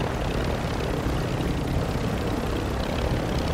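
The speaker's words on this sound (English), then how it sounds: "So much so that I'm taking this helicopter." A helicopter flies in a video game, giving a loud, continuous rotor and engine roar that fills the whole short stretch with no talk.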